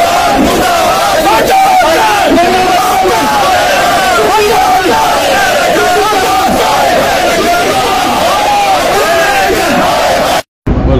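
A large crowd of employees at a protest demonstration against the government shouts and chants slogans, loud and dense throughout, with roaring massed voices that cut out briefly near the end.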